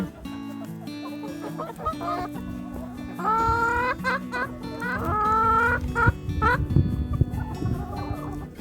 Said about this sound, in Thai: ไก่กินแฮมเบอร์เกอร์